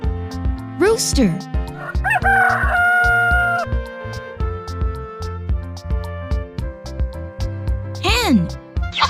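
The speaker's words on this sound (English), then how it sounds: "rooster" A rooster gives one long crow in the middle, heard over a looping background music track, with a voice speaking briefly at the start and again near the end.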